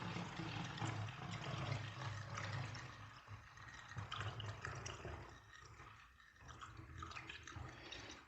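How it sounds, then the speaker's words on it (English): A homemade organic pesticide mixture pours into a container, a quiet continuous splashing and trickling of liquid that shifts in tone as the vessel fills, heard close with no talking. "And you pour it into your container like so."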